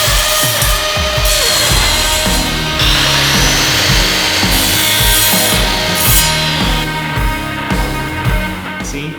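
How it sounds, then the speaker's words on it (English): Miter saw fitted with a special aluminum-cutting disc slicing through aluminum stock for a toolbox build, a loud, continuous grinding whine with steady rhythmic pulses of blade contact, close and alone with no voices. "I'm gonna cut the aluminum on a miter saw with a special disc for cutting aluminum"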